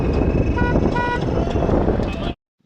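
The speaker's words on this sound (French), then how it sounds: "Jusqu'à même, il y a les klaxons sur la moto en question." Horn of a homemade electric motorcycle built by a 17-year-old in Africa, sounding in short repeated toots over steady wind and road noise, fairly close, then cutting off abruptly.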